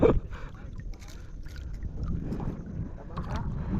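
Boat moving on open water during a fishing tournament in Taytay, Palawan, a low rumbling wash of water and wind buffeting the microphone, steady and close throughout.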